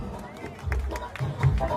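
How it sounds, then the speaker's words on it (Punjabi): Crowd clapping along at an annual fair held at a Pir shrine darbar in Palakdeem, with rhythmic hand claps and crowd noise mixed with singing or voices throughout. "ਤਾੜੀਆਂ ਮਾਰ ਕੇ"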